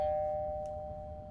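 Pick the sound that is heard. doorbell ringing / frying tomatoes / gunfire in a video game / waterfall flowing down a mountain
doorbell ringing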